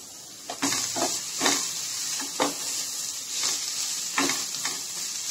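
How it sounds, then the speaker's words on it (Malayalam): Three chopped onions frying in hot oil in a pan for fried rice and chicken curry, giving a continuous loud hissing sizzle with a steady series of stirring swishes and scrapes, no speech. "ഇനി നമുക്ക് അരിഞ്ഞു വെച്ചിരിക്കുന്ന സവാള ഇട്ട് കൊടുക്കാം"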